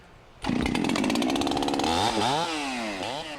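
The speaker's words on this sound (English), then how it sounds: "The chainsaw produces excessive vibration and noise" A chainsaw felling a tree roars to life and runs loud and close, its pitch rising and dipping as it bites into wood.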